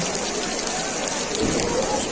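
Heavy rain pours steadily over an open field beside a madrasa and mosque, a dense continuous hiss with a slight swell partway through, while a voice talks over it.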